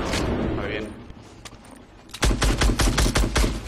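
Bursts of automatic gunfire in the video game Fortnite, a rapid string of loud, evenly spaced shots in the second half, after quieter ambient game noise and scattered footsteps.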